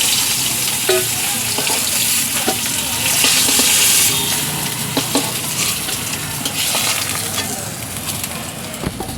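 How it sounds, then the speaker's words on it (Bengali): Oil sizzles and spits loudly and continuously as rohu fish pieces fry in a pan, with occasional scraping and stirring clicks. "লাল করে একটু ভেজে নেব মাছটা"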